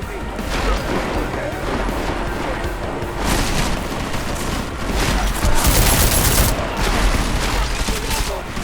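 Cannon fire and blasts in the video game Deus Ex: Mankind Divided, a dense barrage of booms and crashes layered over game noise, loud and continuous with a few heavier bursts.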